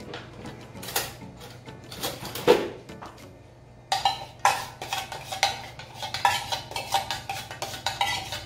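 A spoon scrapes and clinks against a bowl while buko pandan with avocado and condensed milk is mixed, giving irregular clattering strokes that quicken into a steady run of close, moderately loud knocks and scrapes.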